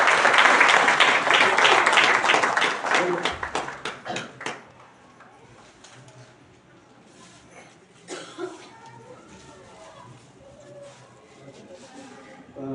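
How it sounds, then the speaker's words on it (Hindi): A church congregation claps loudly in welcome for a pastor's wife, the dense applause fading after a few seconds into quieter room noise, coughs and brief murmurs. "आइए हम जोरदार ताली बजाकर उनका स्वागत करें।"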